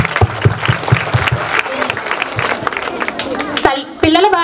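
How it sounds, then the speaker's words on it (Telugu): Parents at a school meeting applaud the teachers, bursts of crowd clapping mixed with sharp individual claps and a murmur of voices, ending as a single voice begins speaking over the fading applause. "ఇక్కడ ఉన్న ఉపాధ్యాయులందరికీ కూడా ఒక్కసారి మనం చప్పట్లు కొట్టి మన ధన్యవాదాలు చెప్పాలండి."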